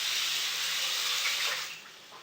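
Water runs steadily from a kitchen tap while hands are rinsed. The broad, constant hiss is close and loud and thins slightly near the end, with no talking.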